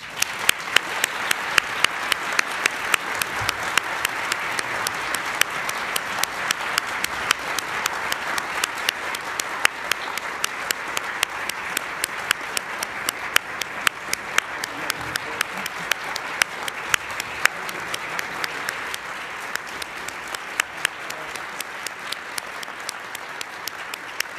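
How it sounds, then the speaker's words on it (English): A large audience at a Secretary of State signing ceremony gives a long, sustained round of applause, dense even clapping with sharp individual claps standing out, steady throughout. "Please join me in a round of applause."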